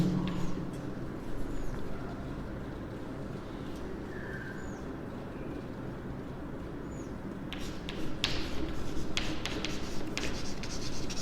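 A pen scratches across paper while a maths teacher writes, a steady close rasp that comes in short strokes and bursts over faint room noise, with no voices.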